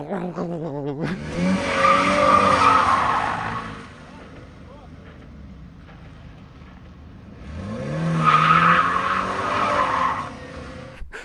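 A BMW E93 convertible's 2-litre petrol engine revs up twice with a loud, raspy exhaust note, easing back to a low idle rumble in between.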